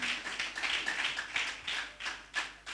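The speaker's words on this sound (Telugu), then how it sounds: "చప్పట్లు కొట్టి దేవునికి స్తోత్రం చెప్తాం." A church congregation claps together in praise during a Christmas service, a steady flurry of many hands with irregular swells, fairly close and filling the room, with no talking.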